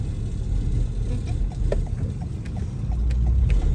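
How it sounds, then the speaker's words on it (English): An old truck rattles steadily with a low rumbling engine and scattered clanks, loud and continuous throughout. "That thing is just rattling."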